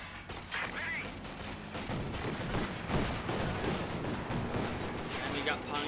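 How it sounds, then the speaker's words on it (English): Infantry gunfire in the real-time strategy game Company of Heroes 2, a dense run of overlapping rifle and machine-gun bursts with explosive cracks that continues over most of the stretch. "Taking infantry fire."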